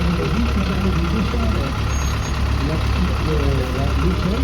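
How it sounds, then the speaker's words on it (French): A motorized ladder-carrier fire engine rumbles steadily at close range during a fire brigade parade, its low engine drone constant and unbroken across the few seconds. "une échelle sur porteur motorisée"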